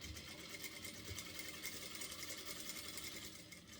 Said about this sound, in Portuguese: faço uma costura no risco, olha, bem em cima do risco